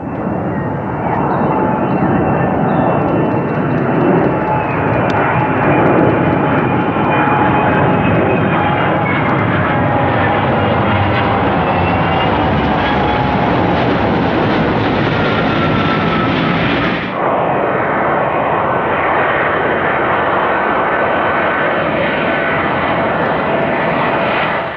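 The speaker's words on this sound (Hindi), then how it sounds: "EC-2 विमान ने अपनी पहली उड़ान भरी" Kawasaki EC-2 military aircraft flies past with a loud, sustained engine roar that holds steady, then drops abruptly in level partway through and continues more softly.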